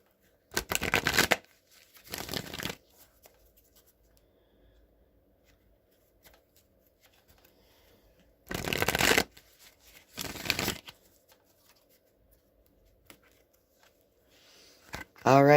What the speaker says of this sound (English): Now I'm going to go ahead and shuffle the Wisdom of the Oracle deck a few times.